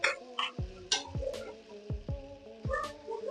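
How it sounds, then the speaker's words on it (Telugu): A spoon stirs chicken curry in a frying pan, making about five separate scraping strokes over a soft sizzle, close up and with no talk. "అప్పుడప్పుడు కలబెట్టుకుంటున్నాను"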